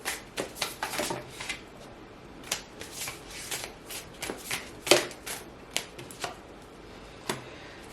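Oracle cards are shuffled close up, producing a steady run of crisp riffling slaps and flutters in quick irregular bursts, with no talk.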